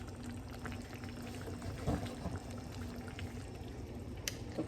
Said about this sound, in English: Gonna let it just boil.